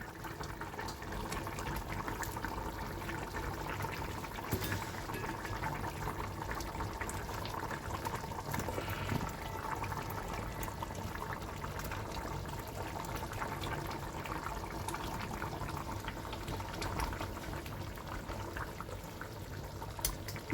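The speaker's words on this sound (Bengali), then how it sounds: "আর এদিকে ঝোলটা ফুটছে।" A pan of fish curry gravy bubbles at a steady boil, with a constant dense simmering wash and small pops throughout, fairly faint and with no voices.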